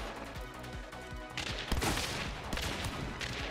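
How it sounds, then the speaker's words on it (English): Shotgun blasts in Hunt: Showdown, a quick burst of sharp, heavy shots in close succession amid chaotic game noise, fairly near and loud with no voices over them. "I hit him twice with shotgun."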